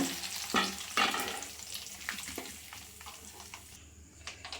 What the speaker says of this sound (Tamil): இந்த கருவேப்பிலை போட்டு நல்லா கிண்டி விட்டுக்கோங்க